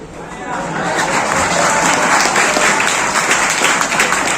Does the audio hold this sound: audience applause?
yes